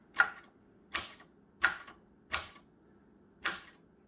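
Five sharp, crisp key strikes on a Royal portable typewriter under repair, spaced irregularly with quiet gaps between them, close and alone.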